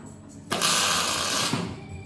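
A welding torch tack-welding a sliding gate in a fabrication job: one sustained buzzing, crackling burst of about a second, loud and close, between quieter background noise.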